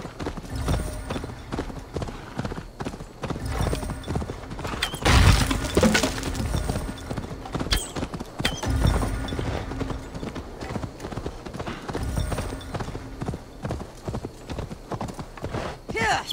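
Horse hooves gallop in the Assassin's Creed Valhalla video game during the Oskoreia festival event, a steady clip-clop running throughout with loud crashing bursts and someone talking over it.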